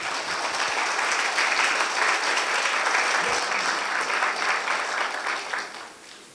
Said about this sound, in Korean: 박문호 박사님을 큰 박수로 모시도록 하겠습니다